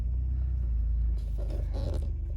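A 1998 Toyota Camry LE with 250,000 miles and failing brakes is driven, its engine giving a steady, close low rumble that continues without a break. No one talks.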